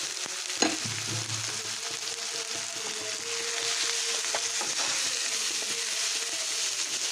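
Onion fries in a pan as carrot is tipped in, a short clatter near the start followed by a continuous, moderately loud sizzle that builds slightly and holds steady, with no voices.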